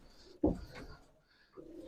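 A soft, low pigeon coo sounds once, then another faint coo follows after a pause, quiet and close.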